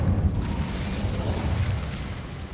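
Incendio fire spell in Hogwarts Legacy bursting as a broad, loud roaring blast that holds steady for a couple of seconds with a dense, crackling rumble and no talk over it.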